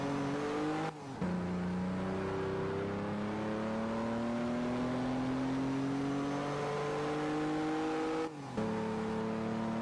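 A modded car engine in the racing game Assetto Corsa, driven on a drift track, revving up through long rising pitch sweeps with two brief gear-shift breaks, steady and close throughout.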